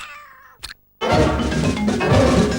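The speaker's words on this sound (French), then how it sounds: "Le gros matou miaule de plus belle." A big tomcat meows loudly in a short animated film, a clear drawn-out cry at the start followed by a sharp burst of noise after a brief silence.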